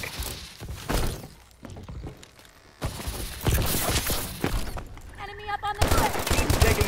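Gunfire in the video game Call of Duty: Advanced Warfare, bursts of automatic fire and sharp impacts with clattering debris, loud and uneven, mixed with game voices and a rapid electronic beeping near the end.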